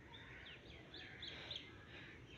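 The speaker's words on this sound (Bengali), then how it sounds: "পাখি ডাকতেছে" Birds chirping and calling in a hilly area with fruit trees, a series of thin repeated tweets at moderate distance over steady outdoor ambience.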